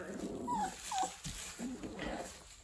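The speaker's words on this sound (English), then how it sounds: "So now there are five puppies in there." Newborn puppies in a litter of five whimper and yip in short, high, rising cries scattered through a few seconds, close by with low background rustle.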